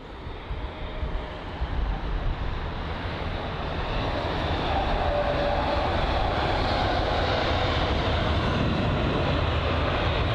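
A KLM Embraer E190 jet at London Heathrow makes a steady, loud roar of engine noise that builds slightly and then holds continuously, with rain-like broadband hiss. No one speaks.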